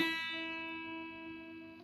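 One sustained guitar note, E, rings steadily and fades gently, already sounding at the start and heard alone.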